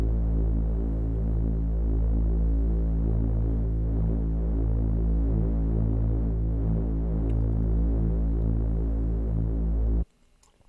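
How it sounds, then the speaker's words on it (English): A ring-modulated synth bass pad for bass house drones deep and steady, with a throbbing, phasey, metallic shimmer held for about ten seconds before cutting off abruptly, loud and without voices. "RM, which is called ring modulation, is also a very fun effect"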